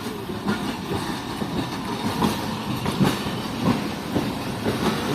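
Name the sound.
passenger train shunting at Jand Junction railway station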